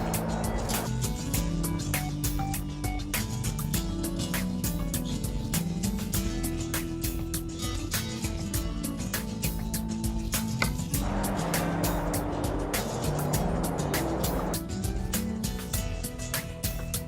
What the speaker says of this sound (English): let's actually make ourselves a nice little trip with this truck and see how she does on the road